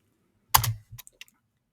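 A few crisp keystrokes on a computer keyboard as a command is typed, one quick cluster of clicks followed by a couple of lighter isolated taps, close and fairly quiet with no talking.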